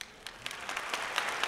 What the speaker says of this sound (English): that deserves a hand clap